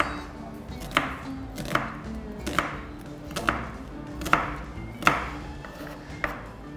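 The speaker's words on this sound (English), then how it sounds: "I'm going to use an onion, first of all. I just want to chop it up." An onion is chopped finely with a knife on a cutting board, sharp close knocks landing at a fairly even, unhurried pace of about one per second, with no talking over them.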